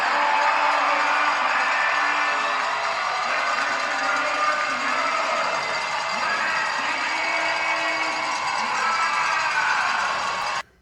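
Hockey crowd at the final seconds of a Wild regular-season game, a steady broad roar of cheering and whoops filling the arena, sustained loud throughout before cutting off abruptly at the end.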